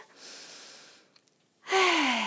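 A slow, audible breath drawn in and released during a gentle seniors' breathing exercise, soft and close, followed by a voice speaking calmly.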